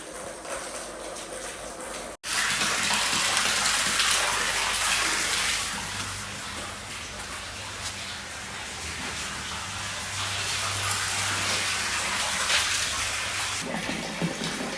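Water gushes steadily from a hose or tap filling up a large container, a loud continuous rushing hiss that starts abruptly after a brief break and runs unbroken with no talking.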